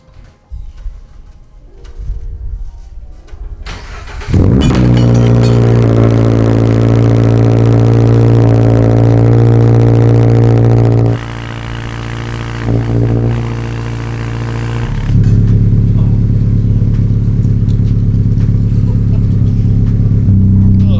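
A 2022 Toyota GR86 or Subaru BRZ engine cranks and fires at about 4 seconds after a quiet start, then settles into a loud, steady high idle with a drop in level near 11 seconds and a rise again near 15 seconds.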